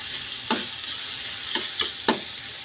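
Mushrooms and potatoes frying in a pan over a low gas flame, a steady soft sizzle broken by four sharp scraping stirs of a utensil against the pan.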